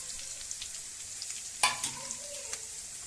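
Capsicum frying in oil as spice powder is tipped in and stirred, a soft steady sizzle with a brief louder scrape and clatter of stirring partway through, close and fairly quiet, no talking.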